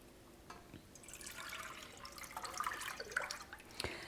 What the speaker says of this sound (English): So in a pan, you want to pour all your milk in.